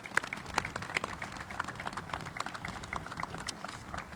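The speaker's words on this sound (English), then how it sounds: "Please offer them a round of applause." At a Virginia Capitol Square renaming ceremony, a small audience gives Officer Dowdy and his wife a round of applause, heard as faint, scattered individual claps from a distance.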